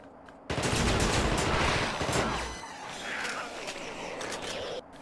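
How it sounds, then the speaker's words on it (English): Rapid burst of submachine gun fire in an 1980s video game, a loud dense stream of crackling shots lasting about two seconds, then a quieter lingering rattle before cutting off. "The submachine gun in this game is a special pleasure of mine."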